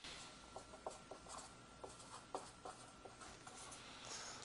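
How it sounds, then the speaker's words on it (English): A pen scratches across paper laid under a document camera, a faint, continuous scribbling with soft intermittent strokes against a steady background hiss, no voices. "you can just place a piece of paper, and you can write on it as you would any whiteboard"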